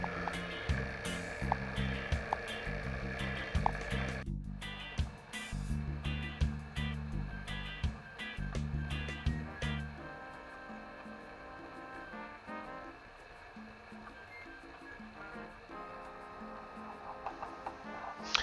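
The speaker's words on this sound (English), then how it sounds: "I just let the vacuum pump just keep running and running and running" A two-stage vacuum pump runs during a DAIZUKI ductless AC installation, giving a steady pulsing motor hum that shifts abruptly after a few seconds, then settles quieter and smoother.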